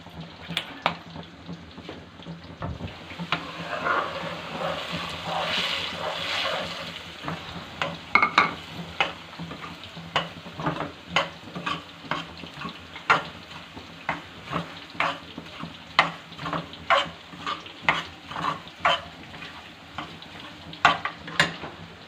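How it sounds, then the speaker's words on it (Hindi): Semolina dry-roasting in a pan for suji halwa while a spoon stirs it, giving a soft continuous sizzle broken by repeated sharp scrapes and taps of the spoon against the pan, close and fairly steady. "अब इसके अंदर हम सूजी डालेंगे और साथ साथ चम्मच हिलाते जाएंगे।"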